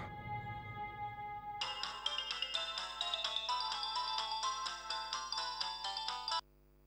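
A phone ringtone plays loud and alone: a steady melodic electronic tune that starts abruptly after a low background hum and runs for several seconds before cutting off.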